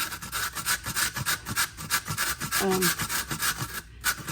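Frozen ginger is grated straight into a cooking pot, a close series of quick rasping strokes in an uneven rhythm, alone and without talk.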